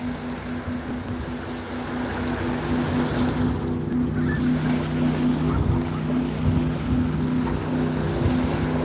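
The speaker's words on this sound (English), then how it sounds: "It's a speedboat." A steady speedboat engine drones with a low hum and harmonic whine as it passes, mixed with wind and water noise, sustained throughout without speech, off Cape May, New Jersey at sunset.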